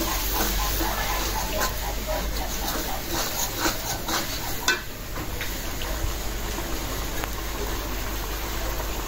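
Ginger, garlic, coriander and cumin paste hitting a hot pan for cholar dal, giving a loud, continuous frying hiss with faint stirring clicks and no pauses.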